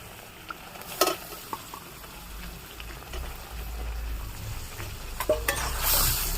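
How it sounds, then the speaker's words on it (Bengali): Soybean chunks stirred into a thick poppy seed gravy in a pan, a low bubbling simmer with a few sharp spoon scrapes and clinks against the metal, steady and close. "তো সোয়াবিন দিয়ে একটু নেড়ে ছেড়ে নেবো"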